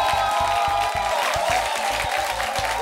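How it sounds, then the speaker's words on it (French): A young audience at a family music show applauds loudly, with dense steady clapping and some crowd noise filling the whole stretch. "la jeunesse ici est sensible et elle vous applaudit très fort, les Adjek"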